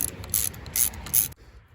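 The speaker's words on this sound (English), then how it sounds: "All you're gonna do is get a couple 10mm wrenches." Wrenches ratchet while removing the brake lever on a Hawk 250 motorcycle, giving three or four close, quick metallic clicking bursts that then stop abruptly into quiet, with no voices.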